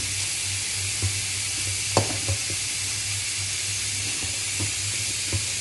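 Fried rice with fried anchovies is tossed and stirred in a pan over a steady low hiss of sizzling, with a handful of soft scraping knocks spaced through it.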